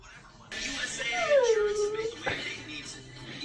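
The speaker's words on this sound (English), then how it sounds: "She whines and howls." A dog whines close by, a thin rising-and-falling whimper drawn out over a couple of seconds against low background noise.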